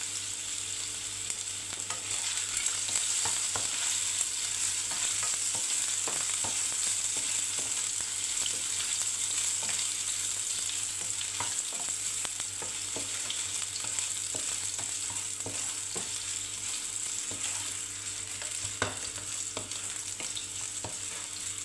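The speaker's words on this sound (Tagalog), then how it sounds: "Ilalagay na po natin itong lettuce para ma-fry." Lettuce frying in hot oil in a wok while Chinese fried rice is prepared: a continuous close sizzle with scattered clinks and stirring scrapes, and no one speaking.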